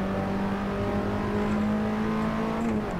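A race car in the Assetto Corsa racing game brakes hard into a corner, its engine holding a steady droning tone with a whine that shifts slightly as it slows, loud and alone.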